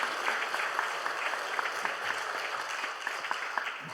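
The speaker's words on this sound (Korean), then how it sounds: "우리 한번 따뜻한 환영의 박수를 한번 해주시면 좋겠습니다." Warm applause from a church congregation welcoming guests during a Sunday service, a steady dense wash of many hands clapping throughout.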